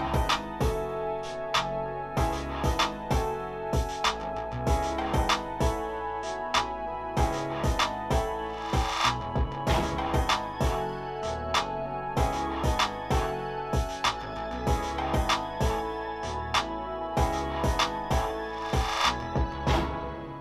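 Full hip-hop beat, with steady, punchy drums locked over sustained melodic layers and a deep low end, dense and loud throughout for about twenty seconds with no voices.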